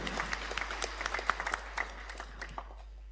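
Audience applause at an Indonesian graduation ceremony, a steady wash of many hands clapping at moderate distance, with a low hum running underneath throughout.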